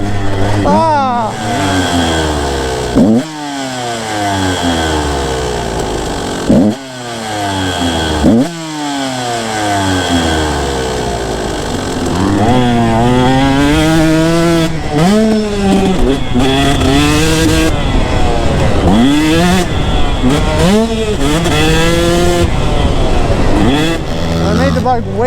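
A 2-stroke motorcycle running too rich revs repeatedly while being ridden, loud and close, with rising and falling throttle sweeps and sputtering between pulls; a rider speaks over the engine at times.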